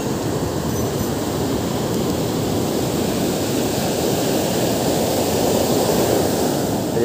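Heavy, turbulent water at a fishing spot roars in a constant loud low rumble, unbroken and close, with no voices.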